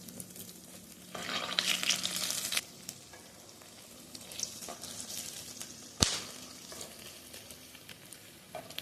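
Sabudana pakoras fry in hot oil, a steady close crackling sizzle that swells loudly as the pieces are turned, then settles to a busy bubbling hiss, with one sharp clatter partway through and no talk.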